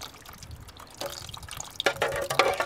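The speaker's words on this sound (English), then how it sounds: "take the time just to spray some water on here, cut down the amount of brake dust coming off" Water sprayed onto the brake of a Mercedes ML350 during brake repair and dripping into a bucket. Quiet irregular drips give way to louder splashing bursts near the end.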